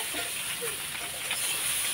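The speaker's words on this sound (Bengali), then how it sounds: "দিদি দেখ না এক করা পটল ভাজছে" Pointed gourd (potol) frying in a pan on a home stove makes a quiet, steady sizzling hiss that holds evenly for a couple of seconds.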